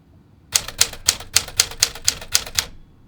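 Keys on a 1954 Smith Corona Silent Super manual typewriter strike one after another in a steady run of about nine crisp, evenly spaced clacks, close up and alone with no voice.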